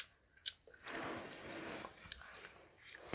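Food is chewed close to the microphone. The clip is quiet and mostly dry, with a burst of wet, squishy mastication in the middle and a few faint clicks and bites around it.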